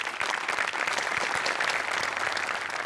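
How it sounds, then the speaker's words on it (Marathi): A studio audience at a Marathi comedy sketch show claps loudly for a performer, a dense, continuous burst of applause lasting about three seconds, with no talking. "आमिर हडकरसाठी एकदा जोरदार टाळ्या"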